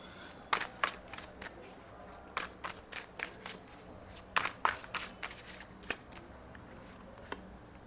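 Tarot cards being shuffled by hand, a string of crisp riffling flutters and snaps close up, irregular bursts repeated throughout at moderate level, with no talk over them.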